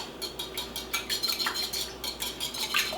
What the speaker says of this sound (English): So we are going to put in our eggs, 3 eggs. And you know what I might do? Break these up just a little bit before I put them in.